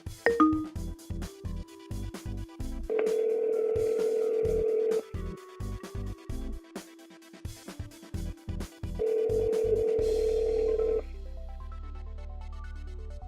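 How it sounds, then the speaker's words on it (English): A car's phone system redials by voice command, producing repeated electronic ringback tones in regular bursts over a steady underlying tone, fairly quiet and with no talking. "Redial dials the previously dialed number."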